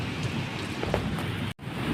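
Steady heavy rain pours in Vientiane, Laos, a dense continuous hiss on surfaces with a few faint distant rumbles that could be thunder, alone without talk.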